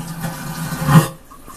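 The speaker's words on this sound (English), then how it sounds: "Here's the toilet. If you've never been in a cruise ship, it's very small, and I'll flush it one time just so you can hear it" A cramped cruise ship stateroom toilet flushes with a loud rushing, sucking whoosh that swells and then cuts off abruptly.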